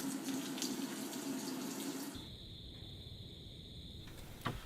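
Water runs steadily into a washing machine drawing on its own hot and cold supply for a first wash in an off-grid container home, a broad rushing flow that shifts character partway through, close and continuous with no talk.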